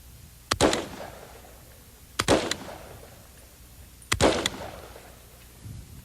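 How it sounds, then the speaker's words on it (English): A semi-automatic hunting rifle fires three single shots at roughly two-second intervals, each a sharp loud crack followed by a short rumbling echo, with no talking. "This too is a hunting rifle. Again, one pull of the trigger,"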